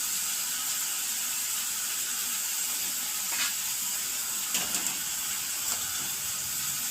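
Tomatoes sizzle in a pan while Maggi noodles cook. A steady, bright hiss of frying runs throughout, with a few faint pops and crackles near the end and no talking.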